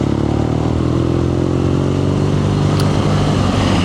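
A BMW R nineT Scrambler motorcycle ridden through city traffic, its engine a steady, loud, continuous drone with a constant low rumble and no talking.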